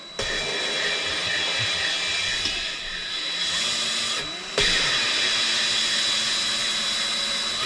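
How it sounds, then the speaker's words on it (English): An engine valve is spun against its seat with grinding compound during a 1965 Chevy Corvair engine build, giving a steady gritty whirring grind with brief dips and a louder resumption partway through, no talk. "as you're spinning, you'll hear it start to grind and then it'll get smooth again"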